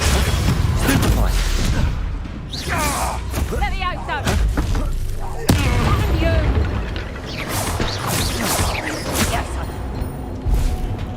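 Spell blasts from Incendio and Stupefy in the Hogwarts Legacy video game: dense crackling, whooshing impacts and crashes one after another under continuous game noise, with a voice speaking over much of it.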